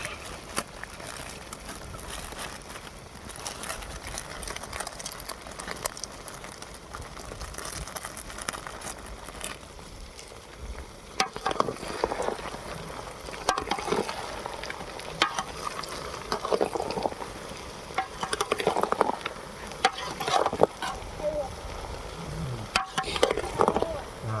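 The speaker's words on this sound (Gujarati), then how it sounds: "હવે આ તમાલ પત્રનો મસાલો નાખશું આપણે" Sizzling and frying of a bay leaf spice mix dropped into hot oil for a fried brinjal curry, a steady crackle that grows louder and busier partway through, with occasional stirring and spoon clatter.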